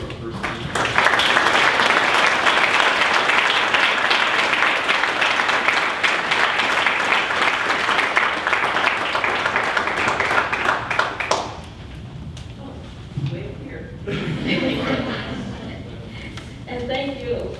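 An audience applauds to welcome a keynote speaker, loud sustained clapping for about eleven seconds that then stops as she begins to talk.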